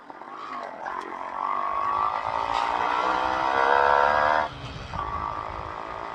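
A Yamaha RX motorcycle engine drones steadily while riding. The sound is close and continuous, rises slightly in the middle, dips briefly and then carries on.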